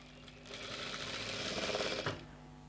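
A sewing machine stitches a blouse neck piece in a quiet tailoring setting, running in a short continuous burst of rapid, even needle chatter that speeds up slightly, then stops with a small clunk.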